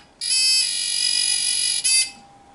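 A littleBits circuit buzzer sounds one loud, harsh electronic buzz lasting nearly two seconds, like the buzzer in the Operation game, with a brief dip near the end before it stops.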